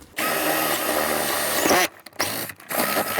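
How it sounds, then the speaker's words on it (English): A power drill whines steadily at close range for nearly two seconds, then stops and restarts in short bursts. "so let's drill this hole right here as well"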